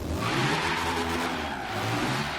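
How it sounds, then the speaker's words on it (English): Reliant Supervan engine revs steadily in Forza Horizon 3, a continuous loud mid-pitched drone with a slight buzzy rasp, no pauses or voices. "That motorbike engine."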